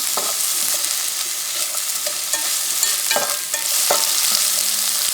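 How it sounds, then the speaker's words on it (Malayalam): Onions sautéing in a pan for a Malabar crispy egg box snack, a steady close frying hiss with scattered light stirring clicks and scrapes of a utensil, alone without talk. "ഉള്ളിയിട്ട് കൊടുക്കാം. ഓക്കെ, എന്നിട്ട് നന്നായി സോട്ട് ചെയ്യുക."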